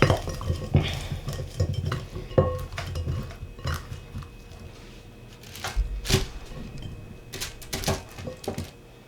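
Pumpkin pieces tipped into a bowl and tossed with garlic, black pepper and spices, close clattering and scraping of a utensil against the dish in irregular bursts, no speech.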